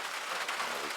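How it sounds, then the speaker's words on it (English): Steady rain during a spring outdoor trip as thunderstorms approach, a faint continuous hiss of patter heard for a brief moment. "All that sound you hear, definitely some rain coming."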